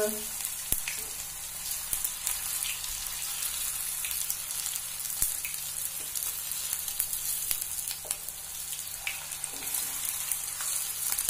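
Grated carrot kebabs fry in a pan after being turned over, giving a steady close sizzle and crackle with scattered pops and no talking.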